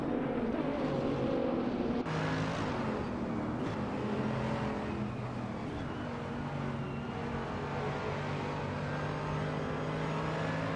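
GT3 race cars in a racing video game at Maple Valley, engines droning steadily and continuously at moderate loudness, with several overlapping engine tones that suggest multiple cars running close together.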